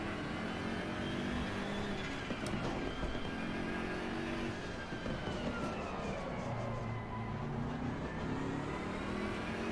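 A BMW GT3 race car in Assetto Corsa Competizione, driven on a TSXW Racer wheel at Paul Ricard, holds a loud, continuous engine howl with pitch rising and falling steadily under hard throttle, with no pause.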